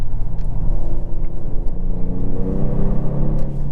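A 2022 Genesis G70 3.3T Prestige AWD accelerates, its engine note a steady low rumble and rising hum heard from inside the cabin, loud and continuous with no talking.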